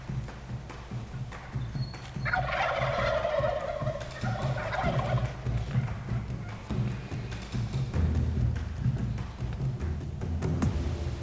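A wild turkey gobbles once at middle distance in the woods, a loud rattling call standing out against a low steady outdoor background, followed by quieter rustling.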